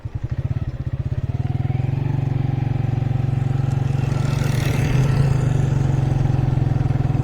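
A motorcycle rides along a main road (GT Road) in Pakistan at night with its headlight on. Its engine drones steadily and loudly from start to finish, with a pulsing idle-like rhythm early on and a rougher, clattering surge near the middle.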